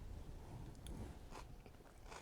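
A few quiet, close crunching bites into chilled coleslaw, soft irregular snaps and chewing with no talking.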